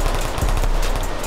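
Quick gunfire in a Roblox hood video game, a brief run of close, loud shots in rapid succession.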